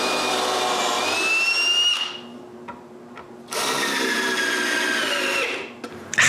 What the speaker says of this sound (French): Maintenant, je peux visser ça en place.